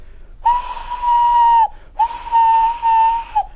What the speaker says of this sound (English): One day Thomas heard an engine whistling